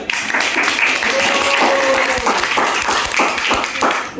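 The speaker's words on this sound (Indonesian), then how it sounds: "Kita beri aplaus untuk Nurul" Classroom audience clapping for a student named Nurul during a teaching practice session, a burst of many hands applauding at once, fairly loud and close, with scattered voices mixed in.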